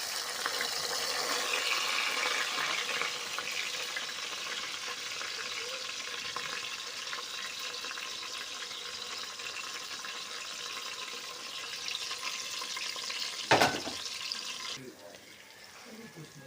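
Finely chopped onions sizzle steadily in hot oil, a continuous crackling fry that holds at moderate loudness throughout, with a brief clatter near the end.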